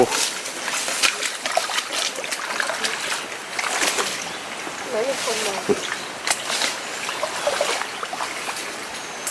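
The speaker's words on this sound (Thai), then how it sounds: "น้ำไหล" Mountain water flowing down in a forest, with a continuous broad trickling and splashing that stays moderately loud throughout and has no talk over it.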